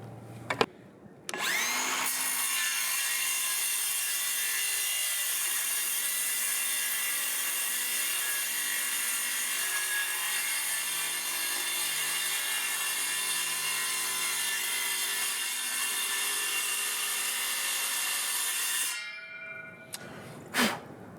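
The cheapest Milwaukee power saw cuts through wood in one sustained, loud, steady whine lasting most of the time, starting and stopping abruptly with brief quiet at each end.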